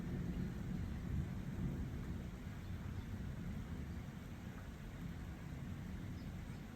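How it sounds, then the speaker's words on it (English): A thunderstorm with a continuous low rumble of distant thunder under steady rain, filling the whole stretch evenly with no voices. "If you can hear the thunder in the background,"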